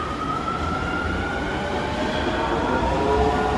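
An Osaka Metro subway train rolling along, with a steady loud rumble of wheels on rails and a thin squeal rising above it, close and continuous, with no talking.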